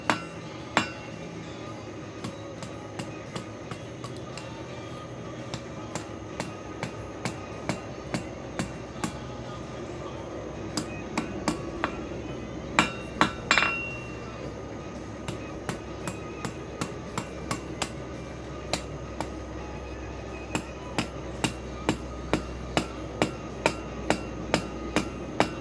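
A hammer taps down a hot steel scroll during forging, with a long series of sharp metallic strikes at a steady, moderate pace over a low background rumble.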